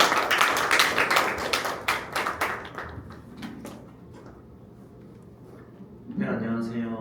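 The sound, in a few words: audience applause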